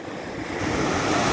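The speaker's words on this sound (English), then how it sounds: "where you see the water all of a sudden like tower upwards and then it crashes. That's a surging wave." A surging ocean wave crashes onto a beach shore in a steady, loud, close wash of surf that swells slightly toward the end, with no voices.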